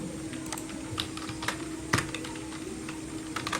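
Someone types HTML and CSS code on a computer keyboard, producing sparse, irregular keystroke clicks over a low steady background hum.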